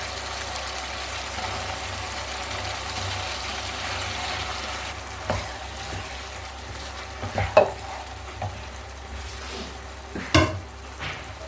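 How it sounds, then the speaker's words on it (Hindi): Boiled whole masoor lentils go into a frying masala, with a steady low sizzle throughout and a few sharp stirring scrapes and clatters of a spoon against the pan toward the end. "तो अब हम इसमें उबले हुए जो मसूर हैं साबित वो हम डाल देंगे।"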